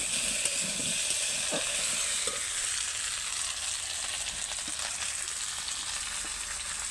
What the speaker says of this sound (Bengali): কচু কচু আর আলু সব কষে নেওয়া হচ্ছে